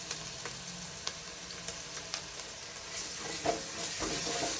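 Ginger garlic paste fries with onions and green chillies in a pan, giving a soft steady sizzle broken by light stirring clicks, close and fairly quiet.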